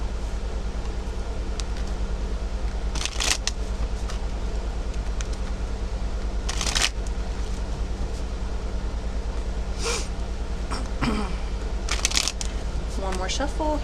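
Tarot cards are shuffled in short riffling bursts at intervals over a steady low hum, with a voice talking quietly in between.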